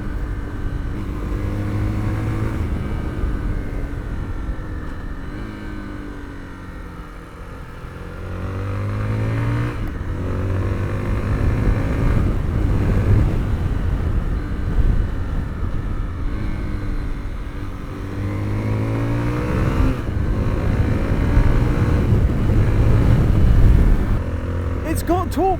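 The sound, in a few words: Zontes 350T ADV motorcycle engine while riding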